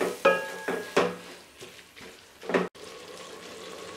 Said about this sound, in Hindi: अब मेथी को मैं मिक्स करके अच्छे से मैं मेथी को भूनूंगी।